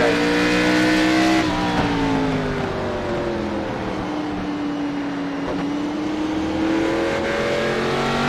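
Stock cars in an iRacing K&N Series race at Martinsville drone steadily close by, their engine notes rising and falling together as the pack laps the short track, with a continuous loud roar and no talking.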